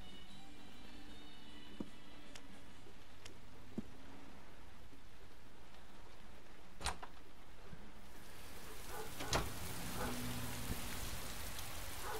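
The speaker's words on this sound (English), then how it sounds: "It's raining." Steady rain falls outdoors as a constant hiss, with scattered louder drips and taps, and the downpour grows heavier near the end.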